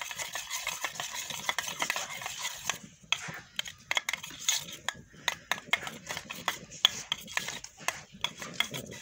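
Hands work saag roti dough in a home kitchen of a mud house, giving soft close rubbing and scraping strokes in an irregular rhythm, fairly faint.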